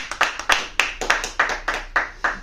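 A handful of slow, evenly spaced claps ring out at a presentation, about nine distinct hand claps in a steady rhythm, close and fairly loud with little else around them.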